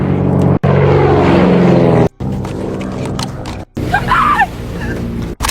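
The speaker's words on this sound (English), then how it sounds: "Suddenly, a plane flies overhead." An aircraft flies overhead in a film scene set on a beach. It makes a loud, continuous broadband roar that fills the clip, broken only by a few brief cuts.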